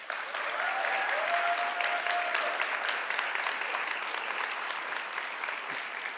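Sustained, even applause from the audience at a university TEDx conference fills the hall after a talk, a broad wash of many hands clapping with no voices over it.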